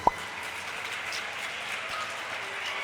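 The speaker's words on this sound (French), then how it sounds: "Je vous demande d'applaudir très fort pour les Évaristes" An audience gives the Évaristes sustained applause during a live televised competition, a steady, dense patter of clapping that sounds somewhat distant and even throughout.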